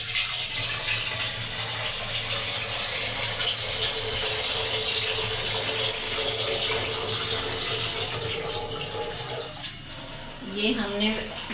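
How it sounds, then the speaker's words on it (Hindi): Tap water steadily filling a pot on a kitchen stove for cooking rice for sweet zarda, a continuous loud rushing flow that eases slightly toward the end. "अभी मैं पानी रखती हूँ दूसरे चूल्हे पर,"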